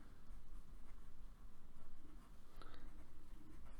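A pen scratches steadily across a surface as a sentence is written out, a soft continuous scraping with brief pauses, faint and close with no voices.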